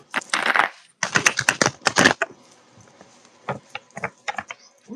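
Tarot cards are shuffled by hand in quick papery bursts of riffling and tapping, loud and close, with a short pause before softer scattered flicks follow.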